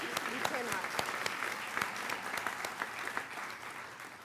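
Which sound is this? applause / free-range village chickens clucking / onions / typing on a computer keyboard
applause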